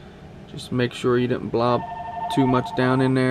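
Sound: phone ringing

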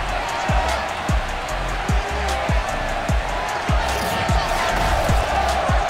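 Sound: stadium crowd cheering in video game Madden 22

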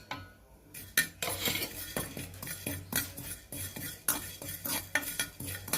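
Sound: fennel seeds being dry-roasted and stirred in a pan

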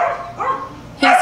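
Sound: small dog barking at pet store

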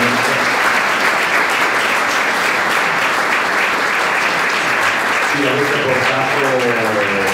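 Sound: audience applause

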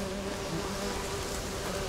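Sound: wasps buzzing in the video game The Witcher 3

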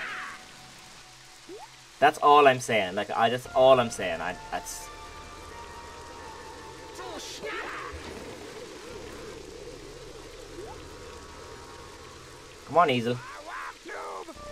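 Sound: rain falling, from video game The Sims 2 DS

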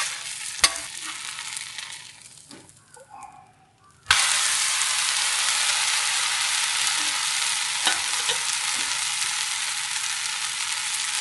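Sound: wheat dosa cooking on a cast-iron dosa griddle

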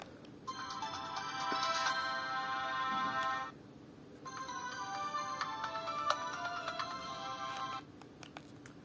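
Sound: built-in ringtone on Siemens C72 mobile phone

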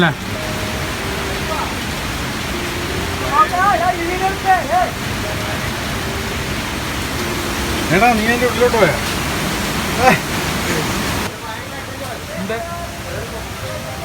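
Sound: water flowing near a natural cave

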